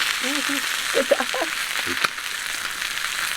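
Lamb chops pan-fry outdoors on a metal setup, a steady moderate sizzle and hiss with a couple of sharp clinks, while a voice speaks briefly near the start.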